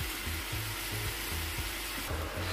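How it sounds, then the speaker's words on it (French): Minced meat seasoned with white and black pepper, curry and salt simmers in a pan over the heat, giving a steady close sizzle with soft stirring scrapes and no talk. "Donc on va laisser ça mijoter environ 3 minutes au feu."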